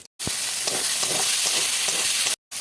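Chicken seasoned with black pepper and salt fries in hot oil in a wok, a steady loud sizzle with occasional crackles and stirring, no voices, cut off by brief silences at both ends.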